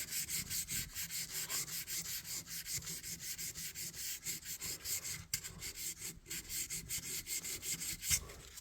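Rust is sanded off a vintage knife in steady, rhythmic back-and-forth abrasive strokes, close and fairly quiet, with no talking.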